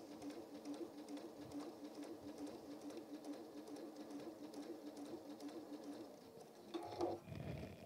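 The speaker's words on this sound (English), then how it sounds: "And I'm going to sew down, and I can just start taking these little pins out." A sewing machine sews down fabric for a Tilda geese toy, a fairly quiet, steady rapid stitching hum with a faint clunk near the end.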